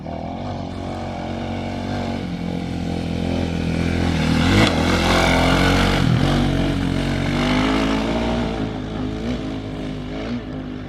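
A Kawasaki KLX300 dirt bike revs continuously as it rides up an off-road hill, its engine droning loud and steady with a swell in the middle as the throttle opens, heard alone without talk.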